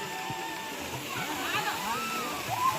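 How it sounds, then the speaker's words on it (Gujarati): Water pours like a waterfall at Kileshwar Mahadev temple in Bhanvad, a steady broadband rush that runs throughout, with voices of people talking nearby over it. "ધોધ જેવું પાણી પડે છે"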